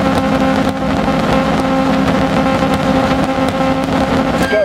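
A rally car engine in Dirt Rally 2.0 holds at high revs at the start line, a steady droning tone with slight wavering, loud and continuous throughout.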